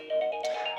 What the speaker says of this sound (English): That's my alarm to tell me I need to finish this thing up really quick.